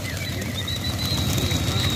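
Racing pigeons coo softly in the background over steady low outdoor noise, with faint chirps and whistles drifting through.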